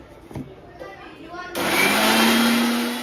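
An electric mixer grinder whirs loud and steady as it blends ginger, garlic cloves and coriander into a paste, starting abruptly after a brief quiet moment with faint handling sounds.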